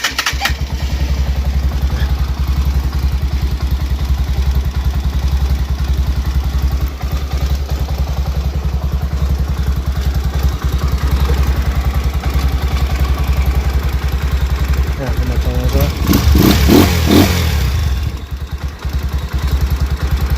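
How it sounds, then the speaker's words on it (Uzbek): A freshly washed motorcycle engine idles in a steady, low, throbbing drone close by, running without a pause, with a brief burst of louder clattering revs near the end. "Motor keyip etib ishlab turibdi lekin o'chgisi kelmaydi motordan"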